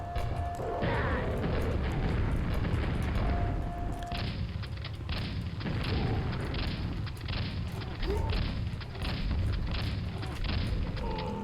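Grenade launcher blasts in Quake Arcane Dimensions, a lava tomb level on Nightmare difficulty, come as a dense run of booming explosions and crashes filling the whole stretch, loud and continuous with brief tonal game cues.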